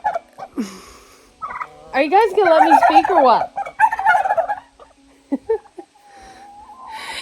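Several turkeys gobble loudly in rippling, overlapping bursts, and someone speaks briefly between their calls.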